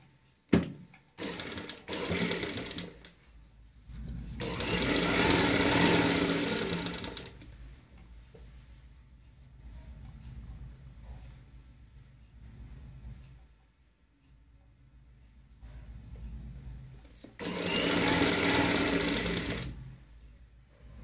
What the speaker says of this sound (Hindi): सिलाई के ऊपर ही सिलाई लगाएंगे।